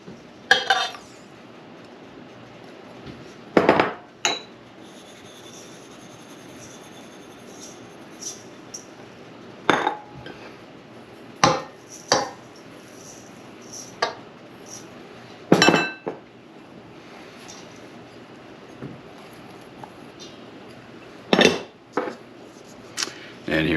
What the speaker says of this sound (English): We're going to get started mixing